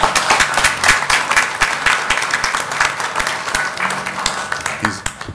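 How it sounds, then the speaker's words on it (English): A room at a city council meeting breaks into a round of applause for parents and players, loud and dense hand clapping with individual sharper claps standing out, carrying on steadily and tapering at the close. "Please give yourself a round of applause."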